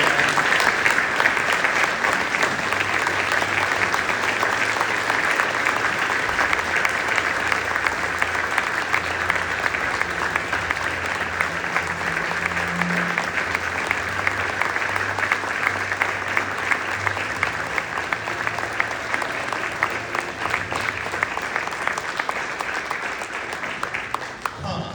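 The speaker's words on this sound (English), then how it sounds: "Let's give Joe a round of applause." An audience gives a long, sustained round of applause for the founder of Contender Boats receiving a manufacturer of the year award at a banquet, with steady dense clapping throughout and a faint murmur of voices beneath.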